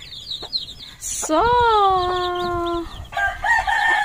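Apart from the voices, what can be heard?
chickens clucking and rooster crowing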